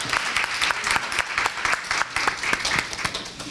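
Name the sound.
audience applause for a panel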